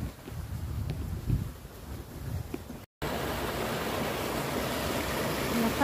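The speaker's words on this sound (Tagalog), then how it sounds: "Lakas ng agos dito guys" Strong water current rushing at a reservoir catchment, a steady broadband roar with gusty wind on the microphone, continuous throughout apart from a brief cut near the middle.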